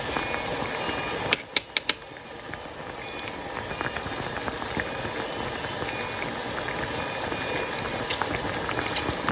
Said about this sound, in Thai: เดือดแล้วนะคะ